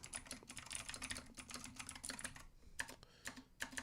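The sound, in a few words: typing on a computer keyboard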